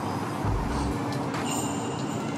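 A Trenitalia train at an Italian station gives a steady, fairly loud rumble and hiss, with a low thump early on and brighter rail squeal toward the end.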